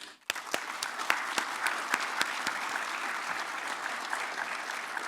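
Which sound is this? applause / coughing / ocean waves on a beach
applause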